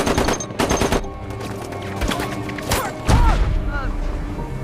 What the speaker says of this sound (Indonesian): tembakan artileri Inggris membombardir pertahanan Jerman